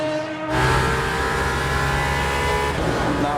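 An Aston Martin Valkyrie AMR-LMH race car engine in the video game Le Mans Ultimate roars steadily with a high, sustained whine, continuous throughout with a slight shift in tone near the end.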